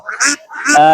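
Loud, nasal quacking from large Chinese ducks close by at a village market, two or three calls in quick succession.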